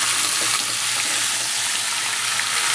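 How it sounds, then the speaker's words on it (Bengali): Boiled potatoes frying in oil, a dense, even sizzle that runs steadily and loud throughout with no pauses or voices. "সিদ্ধ করা আলুটা আমি এই তেলেতে বেশ কিছুক্ষণ সময় ধরে ভেজে নেব।"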